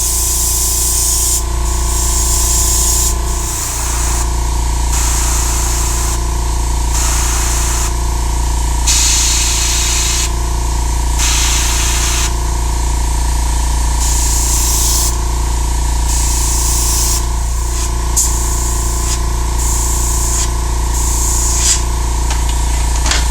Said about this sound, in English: we have some good control there with the amount of spray that's coming out from a light mist to a more heavier mist